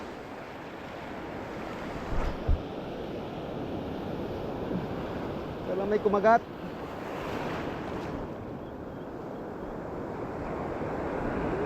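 Ocean waves crash and wash along the shore during a fishing outing, a steady, fairly faint roar of surf and wind with brief louder bursts, while a person speaks over it.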